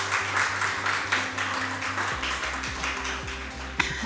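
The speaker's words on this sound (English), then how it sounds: "Please clap for yourselves." A business audience at a Kenya–South Africa chamber of commerce event applauds steadily together, a dense, sustained wash of many hands clapping at moderate distance, with a low hum running underneath.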